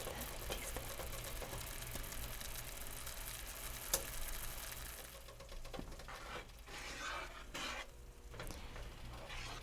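Butter and lemon zest sauce cooking in a pan, a quiet steady sizzle and simmer with light patter, close but faint, a single sharp tick near the middle, then softer bubbling with occasional stirring.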